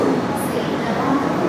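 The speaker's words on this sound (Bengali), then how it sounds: "12277 20 শতাব্দী বেরিয়ে যাচ্ছে পুরীর উদ্দেশ্যে" Shatabdi Express 12277 pulls out of an Indian railway platform bound for Puri, a loud, steady broadband rumble of wheels and carriages close by that continues throughout.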